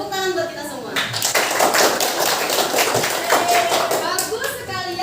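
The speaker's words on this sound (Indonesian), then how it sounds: "tepuk tangan buat kita semua" Classroom applause from a group of middle school students, a dense burst of hand clapping that swells and sustains under a teacher's voice, with some children's chatter mixed in.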